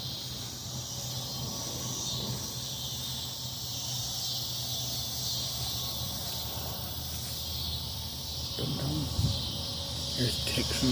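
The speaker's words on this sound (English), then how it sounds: "Check these cicadas out." Loud, steady insect drone fills the whole stretch, consistent with a chorus of cicadas in an Oklahoma City park, a continuous high buzz with faint low background rumble and a few brief knocks near the end.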